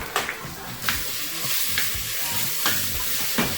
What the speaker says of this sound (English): I'm going to add to this my garlic.